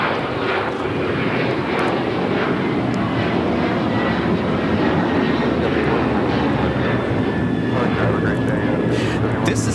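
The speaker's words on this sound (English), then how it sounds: "This is United Airlines 1571 taking off to Houston Intercontinental on the 737-900ER" A United Airlines Boeing 737-900ER takes off at LAX, a loud, steady jet engine roar filling the whole stretch with broadband rumble, while faint voices murmur underneath.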